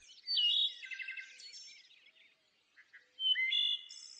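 A thrush sings two bright, whistled phrases with trilled, warbling notes, close and clear, separated by a short quiet gap.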